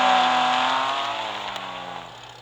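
A 2010 BMW Z4 sDrive35is engine in the Real Racing 3 racing game holds a loud, steady revving tone that slowly fades and eases off over a couple of seconds.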